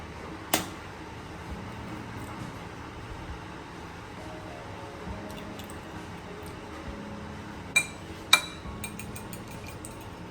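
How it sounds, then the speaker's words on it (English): Two crisp taps close together come from eggs being cracked onto a tray while preparing crumbed fish, following one earlier sharp knock and a quiet kitchen background. "So I'm gonna crack these eggs."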